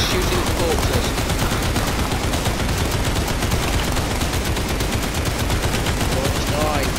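Steady rapid AK (Kalashnikov) automatic fire in the zombie shooter game Zombie Survivors, loud and continuous for the whole stretch with faint voice-like traces underneath.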